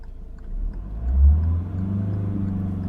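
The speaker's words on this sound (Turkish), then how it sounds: "Kalkalım gaz debriyaj." A car engine revs as a learner driver pulls away during a driving lesson, a low rumble swelling to a peak and then settling into a steady hum, close and moderately loud.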